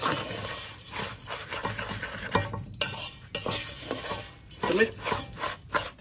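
Rice being fried and stirred in a pan for a family Sunday lunch in the countryside, with continuous scraping and clinking of a spoon against the pan over a soft sizzle, close and fairly steady.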